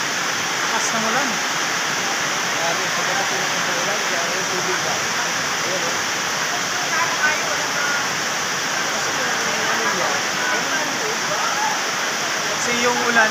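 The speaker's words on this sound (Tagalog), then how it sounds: "lakas ng ulan" Heavy rain pours down in a steady, dense roar onto a tarpaulin shelter, loud and constant throughout, with faint voices mixed underneath.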